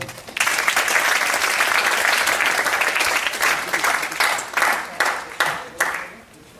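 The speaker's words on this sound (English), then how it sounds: "A round of applause for John." An audience at a community archaeology lecture about Kythera's ancient capital bursts into loud, sustained applause for the incoming speaker, dense clapping that swells, then thins and fades in uneven bursts before trailing off.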